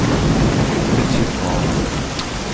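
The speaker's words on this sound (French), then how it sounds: "Bon il va s'arrêter de pleuvoir, là je m'entends plus." Steady, heavy rain with rolling thunder in the video game S.T.A.L.K.E.R., a loud, dense wash of downpour that fills the whole stretch without a break.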